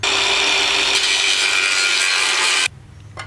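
A power tool cuts through an aluminum trim ring on a 2JZGTE-swapped IS300, a loud steady abrasive whine running nearly three seconds before stopping abruptly into quiet.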